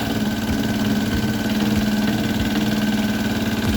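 A motorcycle engine idles steadily and loudly right after being started on a repaired dry battery, a constant close-up mechanical hum with a regular low pulsing and no talking.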